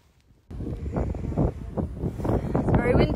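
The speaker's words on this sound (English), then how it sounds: "It's very windy, so you might not get to hear me." Gusty wind buffets the microphone in a horse show warm-up arena, a continuous rumbling roar that kicks in after a brief quiet start and keeps surging loudly throughout.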